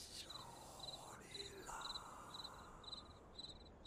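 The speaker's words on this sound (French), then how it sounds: "Il y a un grillon." A cricket chirps in a regular pulsing rhythm in the cemetery of the Graveyard Shift video game, faint and steady over a low ambient hush, with a soft whooshing sweep passing through.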